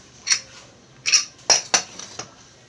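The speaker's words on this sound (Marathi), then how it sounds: "आता आपण कुकर उघडून बघूया" Metal lid and utensils of a pressure cooker clink and clatter in a few short, sharp knocks spread across a couple of seconds, close by and with no talking.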